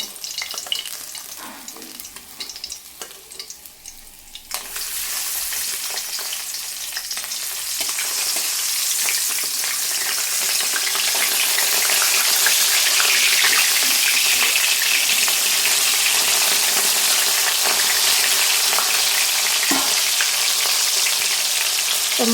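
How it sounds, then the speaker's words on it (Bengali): Pieces of rohu fish fry in hot oil and are turned over, a quieter sizzle at first that swells into a loud, dense, continuous hiss close by. "মাছ একদিকটা ভালো করে ভাজা হয়ে গেছে এবার মাছগুলো আমি আরেক দিকটা পাল্টে নেবো"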